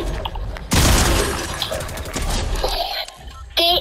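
Shotgun blasts in a Fortnite Tilted Zone Wars match, two loud sharp bursts, the first long and crackling, amid game effects and a brief electronic chime.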